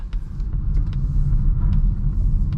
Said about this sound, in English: You can hear the rear tires skipping a little bit there.